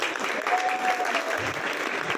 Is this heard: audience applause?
yes